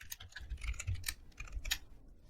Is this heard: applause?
no